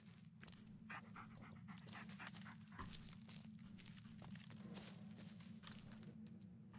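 A dog in the Blair Witch video game pants steadily and quietly, rapid breathy rhythm over a low hum, with faint footstep-like rustles and no talk.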